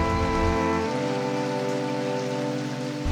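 Steady rain patters on a surface in Hyderabad, a continuous wash of drops with a low hum underneath, unbroken for the whole stretch.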